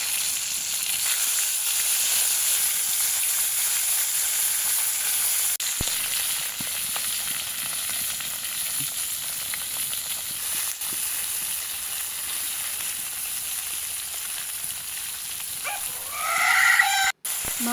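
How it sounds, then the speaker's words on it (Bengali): Taki fish frying in pure mustard oil in a kadai, a steady broad sizzle that holds evenly for a long stretch, with a short bleating or squealing sound near the end. "এখন এখানে আমি টাকি মাছগুলো ভালো করে ভেজে নিব।"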